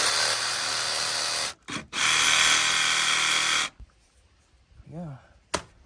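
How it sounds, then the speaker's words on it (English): A DeWalt jigsaw cuts a board in two close, loud buzzing runs, a short one then a longer one, followed by a brief quiet stretch with faint sounds and a sharp click. "We got this cool jigsaw, which seems to be working pretty good so far."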